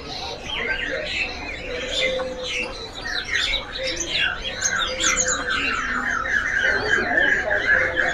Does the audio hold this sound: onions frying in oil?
no